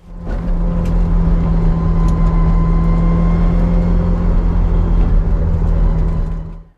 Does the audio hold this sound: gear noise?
yes